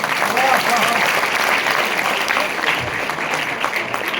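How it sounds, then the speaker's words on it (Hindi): Loud, sustained applause from an audience for a student named Kaustubh after his recited poem, steady clapping filling the whole stretch with a few voices mixed in. "जोरदार तालियां कौस्तुभ के लिए"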